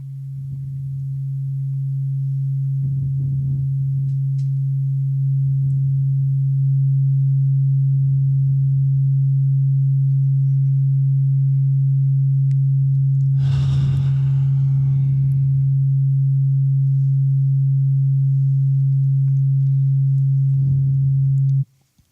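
A steady low 136.1 Hz sine tone hums continuously and loudly throughout, with faint breaths and a brief sigh-like noise audible over it.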